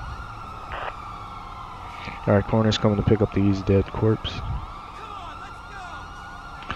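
Emergency vehicle sirens wailing throughout a police scene in the video game GTA V, with someone talking over them in the middle.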